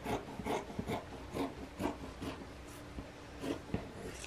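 Scissors cutting away excess quilt fabric at the edges of a French braid table runner, a series of close, soft snips and rustles in an uneven rhythm with no voices.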